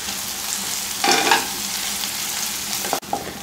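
Onions and green chilies fry in a pan for a homestyle chicken curry, a steady sizzle with a brief louder burst of stirring and scraping near the start and a small clatter toward the end.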